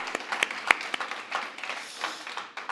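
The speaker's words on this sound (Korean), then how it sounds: "하나님께 영광의 박수 올려드리도록 하겠습니다" Applause from a church congregation during a prayer service, scattered claps building into a loose, moderately loud patter that fills the room without voices.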